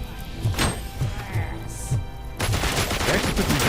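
Video game gunfire from RoboCop on PS5, a dense run of rapid shots and thuds under busy game sound, getting louder and fuller partway through.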